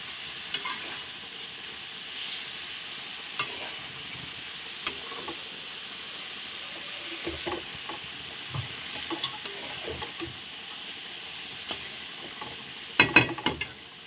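Mustard flower paste frying in a pan for sarsa phoolar boti, with steady low sizzling and intermittent scraping stir strokes, louder clusters near the end; no speech.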